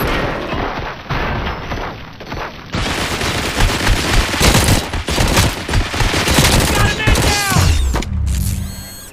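Gunfire in the RoboCop Rogue City video game on PS5, with loud, dense, rapid bursts of automatic weapon fire and heavy impacts that continue nearly without a break, then mechanical whirs and clanks near the end.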